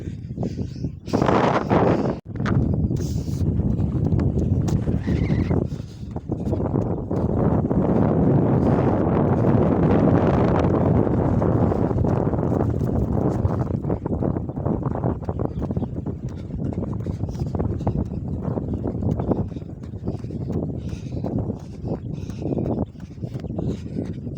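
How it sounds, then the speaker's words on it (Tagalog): Strong, cold January wind outdoors during a walk and jog, roaring steadily and loudly across the microphone with gusty buffeting and no pause throughout. "Malakas ang hangin pero malamig."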